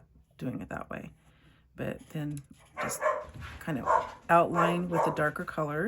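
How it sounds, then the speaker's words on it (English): A pet dog barks at home in short bursts, reacting to what may be a delivery at the door, mixed under steady nearby talk. "Sorry about my dog barking."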